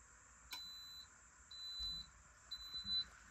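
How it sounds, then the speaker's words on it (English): A boat's high bilge alarm sounds, wired through a relay, giving three evenly spaced, thin electronic beeps about a second apart, fairly quiet against a soft background with light handling noise. "you'll hear the alarm trigger, and then I will get a bilge pump notification on my Cerbo."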